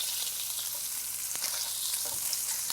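Browned kielbasa sizzling in oil as it is shifted into another pan, a close, continuous bright crackle with a few soft scraping clicks, no voices.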